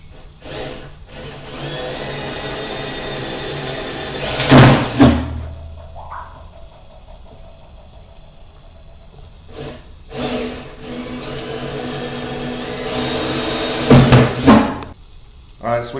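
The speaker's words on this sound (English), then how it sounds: "we got the pilot holes drilled" Short bursts of a power drill boring pilot holes for a grill bracket on a Recteq RT-700 grill whir loud and close, with a clunk between them and some background talking.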